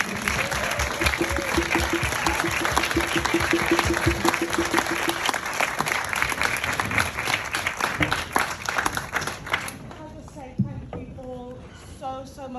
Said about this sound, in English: can we just finish with a massive round of applause?